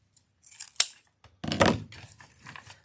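Very sharp scissors snipping material while an Easter bakery wreath is made, one crisp close cut followed by a longer rasping slice and softer trailing rustles.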